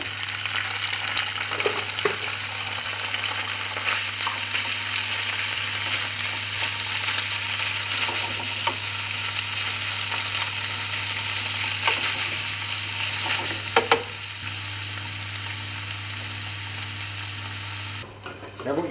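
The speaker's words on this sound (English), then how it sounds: "our pan-fried potatoes will be going in the frying pan" Potatoes sizzle and crackle steadily in a hot frying pan, close by, with occasional stirring noises.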